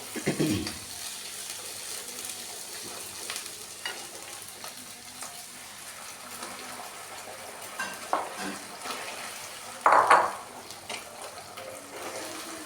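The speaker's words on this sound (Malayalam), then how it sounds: "ഇനി സോസ് ഒഴിച്ച് കൊടുക്കാം" Tomato-chili sauce is poured into a pan of capsicum for Gobi Manchurian and stirred. A steady sizzle runs under scraping spoon strokes, with a louder splash and clatter near the end.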